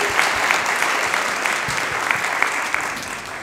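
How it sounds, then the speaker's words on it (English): A school audience applauds after a girls' performance at an elementary school musical. The clapping is sustained and even, with a few sharper individual claps standing out near the front. "You gotta get another round of applause"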